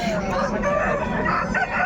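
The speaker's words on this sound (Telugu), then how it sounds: "మంచి బ్రీడ్ తమిళనాడు బ్రీడ్ సంబంధించిన పుంజు" A Tamil Nadu breed rooster crows once nearby at a poultry market in Pileru, a loud drawn-out call over a busy outdoor background.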